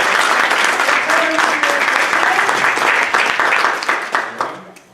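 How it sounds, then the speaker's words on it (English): Sustained applause and clapping from a convention panel audience at Retropalooza IV, loud and dense throughout before tapering off near the end, with no talk over it. "we can give him a round of applause"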